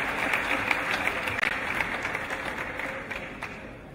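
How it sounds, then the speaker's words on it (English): A round of applause at a Ghanaian royal book launch for Otumfuo's History of Ashanti, steady crowd clapping that stays fairly even and moderately loud throughout, fading slightly at the end. "Please, a round of applause for him."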